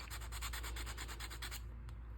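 Rapid, steady rubbing strokes of a sanding block over a resin coaster, a rhythmic scratchy swish that stops abruptly near the end.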